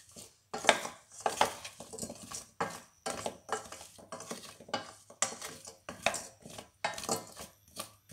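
Vegetables being sautéed in a pot for a winter soup, with repeated scraping and clinking of a utensil stirring against the pot in irregular bursts, a faint sizzle underneath.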